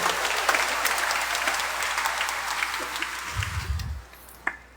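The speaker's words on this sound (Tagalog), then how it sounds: "Palakpakan natin si Lord ng malakas" Congregation at a Quiapo Church Mass breaking into loud, sustained applause that fills the space, tapering off near the end with a few last claps.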